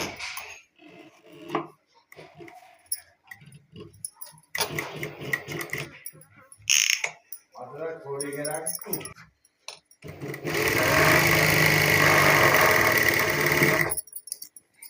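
A sewing machine runs in one steady burst near the end, stitching the belt onto a pair of loose pants, after stretches of someone talking and fabric handling.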